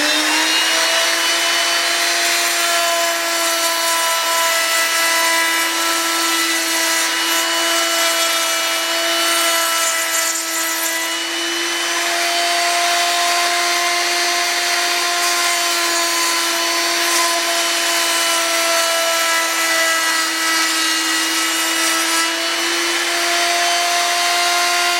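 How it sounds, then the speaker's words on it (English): A router table spinning steadily as it cuts a tongue into wooden boards for a tongue-and-groove shed door, a loud continuous high whine with stable tones and no talking. "what we have here is the router table with"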